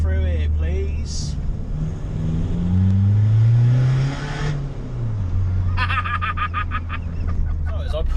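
Skoda Fabia VRS 240 bhp hybrid turbo diesel hatchback pulls hard in second gear, its engine note rising steadily then dropping as revs fall, heard from inside the car with road noise and a brief chirp.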